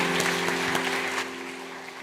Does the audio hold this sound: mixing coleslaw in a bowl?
no